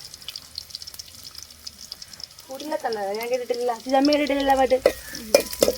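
Fish curry stirred and frying in a pan, close sizzling and scraping spoon strokes; a voice hums or sings a tune over the cooking partway through.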